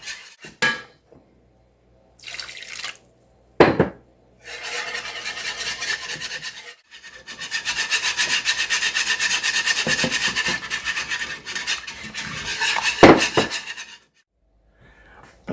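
A utensil stirs and scrapes against a pot as flour is worked into hot broth for chicken pot pie to break up lumps, with bursts of rasping and clinking between short pauses, close and fairly quiet.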